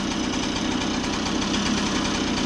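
A Bridgestone 60 Sport motorcycle engine running on a ride after a bearing and seal rebuild, a steady loud buzzing drone with a fast, even pulse and no voices.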